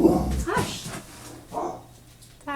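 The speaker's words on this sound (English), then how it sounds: "crazy dogs barking out the window at dogs walking by" A dog barks and whines in short bursts nearby, barking out a window at passing dogs, with a brief bit of human voice mixed in.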